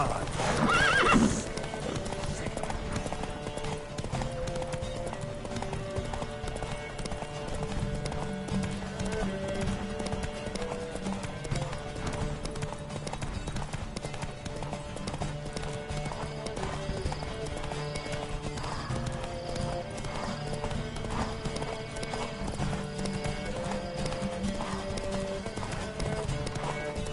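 Galloping hoofbeats from a horse race in The Witcher 3 drum on steadily and close for the whole stretch, layered with snorts and neighs over a continuous bed of game music.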